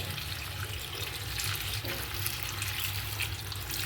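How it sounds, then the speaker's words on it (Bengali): Kalmi greens (water spinach) rinsed under a running tap, a steady close rush of water splashing over the leaves into a sink, continuous for a few seconds with no voices. "শাক তো একটু বেশি রকমভাবে ধুতে হয়, প্রচুর ভালো করে ধুতে হয় শাক পাতা"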